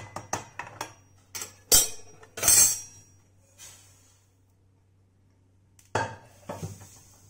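In a home kitchen, toasted sesame seeds are moved from the pan onto a plate for til laddu. Scattered metal and dish clinks and scrapes come in short bursts with quiet gaps between them, close by, with no talking.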